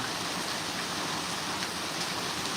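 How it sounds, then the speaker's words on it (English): Steady heavy rain pours down in a dense, even hiss close by, with no voices and no pauses. "it started raining harder."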